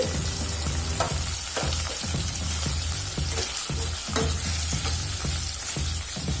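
Finely chopped tomatoes and curry leaves fry in a pan with a steady, loud sizzle, broken by scraping stirs throughout. No voices are heard.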